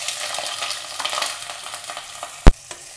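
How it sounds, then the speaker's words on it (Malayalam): Sliced onions fry and sizzle in a pan of popped mustard seeds for a Kerala-style pepper chicken curry, a close, steady crackle with stirring scrapes and one sharp utensil knock near the end. "ഈ കടുക് പൊട്ടിക്കഴിഞ്ഞാൽ നമുക്ക് സവാള ഇട്ട് കൊടുക്കാം."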